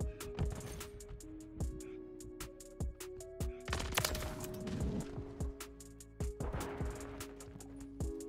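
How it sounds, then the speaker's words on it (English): Gunfire in Call of Duty Modern Warfare 3 multiplayer, sharp repeated shots and short automatic bursts at an irregular rhythm, fairly faint overall with some closer cracks standing out. "I hear somebody shooting"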